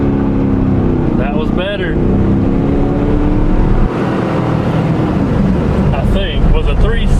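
Stock Chevrolet Camaro Z28 launching hard with its wheels spinning, a loud continuous engine roar with rising tones and tire noise, with someone speaking briefly over it.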